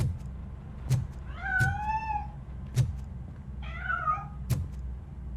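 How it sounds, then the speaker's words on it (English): Cat meowing in the RoboCop: Rogue City video game, two clear drawn-out meows a couple of seconds apart over a low ambient hum, with sharp knocks in between. "That cat must be hiding inside."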